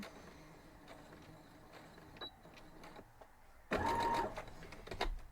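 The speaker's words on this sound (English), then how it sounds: "So we're going to back stitch a little. And then we're just going to sew down through and back stitch again." A sewing machine back stitching a cloth napkin: a faint, soft whir with scattered clicks, then a louder burst of rapid stitching near the end.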